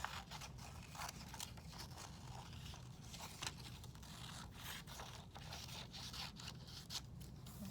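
Scissors cut out a paper shape in a quiet room, giving a run of soft, repeated snipping and scraping strokes at close range, fairly faint, with no talking.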